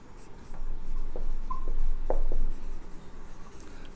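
Marker or chalk writing on a board during a chemistry lecture, a couple of seconds of close scratchy strokes and taps, then quieter, with no talk.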